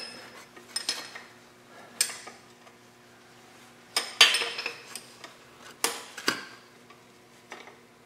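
Metal wrench clicks and clanks against a transmission cooler line fitting in tight quarters, a series of sharp, separate ticks and knocks spaced irregularly over several seconds, close and fairly quiet.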